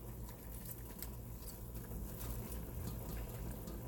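Cabbage pieces, green parts already cooked through, dropped into a pot of hot cooking water for Sunday dinner, making a soft steady wet patter and splashing that runs through the whole stretch at close range with no talking.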